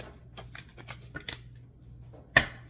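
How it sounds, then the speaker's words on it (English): A tarot card drawn from a deck on a table, heard as light papery rustles and taps followed by one sharp snap of the card, close and quiet. "Just clarify one card,"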